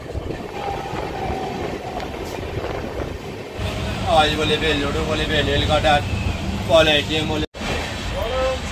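A passenger train bound for Bolpur rumbles steadily with rhythmic clatter of wheels on track, while people talk nearby over the running noise.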